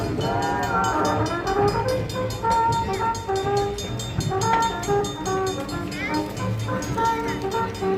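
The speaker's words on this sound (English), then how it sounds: "a northbound CSX grain train rolling on the Lake State Railway tracks with a duo of YN2 AC-44s for power" A northbound CSX grain train, led by a pair of AC44 locomotives on Lake State Railway track, sounds loud, sustained horn blasts over the steady roar and clatter of the passing train.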